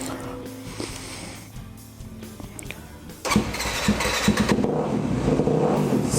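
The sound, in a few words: motorcycle with aftermarket exhaust pipe starting and revving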